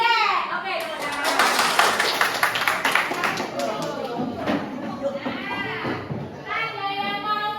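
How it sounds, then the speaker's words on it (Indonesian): Classroom pupils in an Indonesian social studies lesson clap their hands together in a loud, dense burst, mixed with children's chatter and shouts that carry on as the clapping thins out. "Oke, tepuk tangan."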